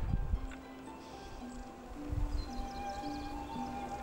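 Birds sing in a remote mountain countryside, with repeated short chirps and whistled notes, some thin and high, over a quiet background with a few soft thumps and rustles.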